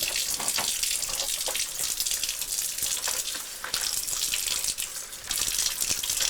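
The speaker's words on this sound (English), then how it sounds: "Now, I turn the faucet back on, rinse out the sponge" Water from a sink faucet runs steadily while a sponge is rinsed under it, a continuous close splashing hiss with brief surges as the sponge moves through the stream.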